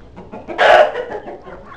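A chicken gives a single loud, close cluck-like squawk, brief and harsh, with faint background noise before and after and no talking.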